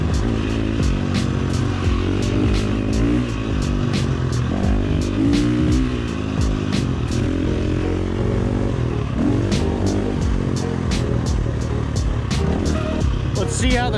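A motorcycle fitted with a Tokyo Mods Vortex ECU idles loud and close with a rapid regular engine pulse, then revs up and drops back several times in sharp surges.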